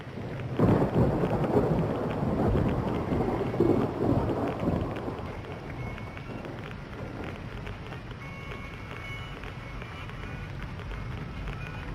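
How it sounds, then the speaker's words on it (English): A rumbling roll of thunder opens over steady rain in the modded video game Fallout: New Vegas, then fades into a continuous patter of rainfall. "I'm glad that the rain is not a radioactive rain"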